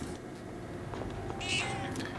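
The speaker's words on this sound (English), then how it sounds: "Cat." A cat meows inside the video game Persona 3 Reload, a short, fairly quiet call rising over a steady game background hum, heard once near the end of the moment.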